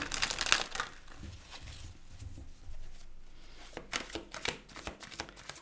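Tarot cards are shuffled by hand in quick crisp riffling bursts, close and fairly quiet, with short pauses between rounds.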